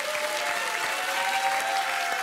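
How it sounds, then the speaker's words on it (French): Studio audience applause on a French TV game show, steady dense clapping throughout at moderate level, with no voices over it. "Eh bien, on vous applaudit."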